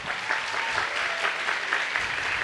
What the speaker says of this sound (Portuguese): Queria pedir uma salva de palmas para as autoras.